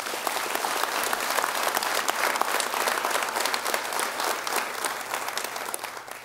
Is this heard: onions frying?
no